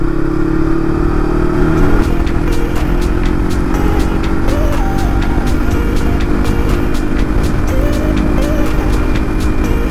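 A motorcycle engine drones steadily at speed on local roads in Nonsan, Korea, with rushing wind and occasional light clicks and rattles throughout.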